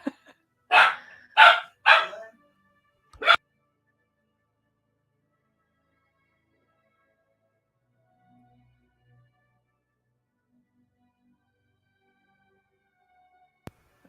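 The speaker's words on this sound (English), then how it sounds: "hear the dog?" A dog barks a few times in a quick burst after a doorbell rings, then falls silent for a long stretch, with one faint sharp sound near the end.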